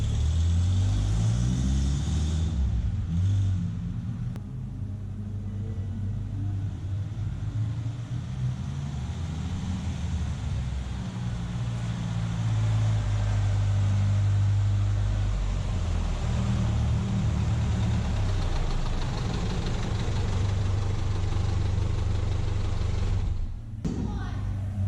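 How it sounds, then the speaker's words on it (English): A junkyard Datsun drives on a test run around the block, its engine droning steadily at close range with rising and falling revs as the car moves, and a voice talks over it for much of the time. "Then it was time to take it for a test drive around the block"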